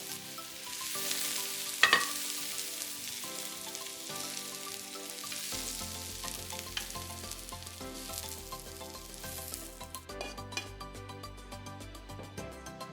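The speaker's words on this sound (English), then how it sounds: "I placed the pork in the pan." Ground pork sizzling and frying in a pan for homemade egg rolls, a continuous crackling hiss with a quick clatter early on, close up, faint background music underneath and no voices.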